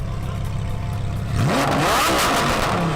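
A Lamborghini sits idling with a low rumble, then the engine is blipped into a loud, rising rev that climbs and falls back, close and strong, with no voices.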